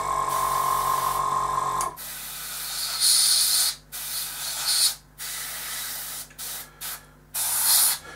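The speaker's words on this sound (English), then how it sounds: "you are spraying paint and it's going on very, very thinly" Spray paint hisses in a thin mist onto a MiG-23 model in brown. A long continuous spray is followed by several short, close bursts separated by brief silences.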